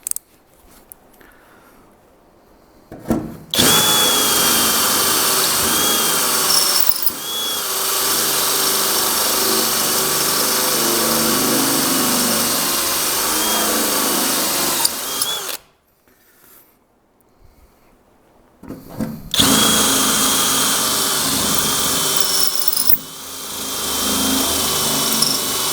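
Power drill with a step bit opening mounting holes in a custom vehicle firewall for a Chevy Astro hydroboost, loud sustained high-pitched whirring in two long bursts separated by a short near-silent pause.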